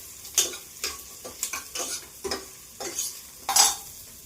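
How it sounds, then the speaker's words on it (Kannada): Grated coconut frying in a pan with cinnamon and cloves for vegetable pulao: a series of short sizzling bursts and stirring scrapes, close and fairly loud, repeating at irregular intervals. "ಈಗ ಕಾಯಿ ಹಾಕ್ತಾ ಇದ್ದೀನಿ, ಅದನ್ನು ಒಂಚೂರು ಫ್ರೈ ಮಾಡ್ಕೋಬೇಕು."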